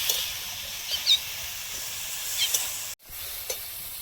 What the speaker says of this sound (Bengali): আসলে বলবো শুধু ওলকপি ভাজা এটা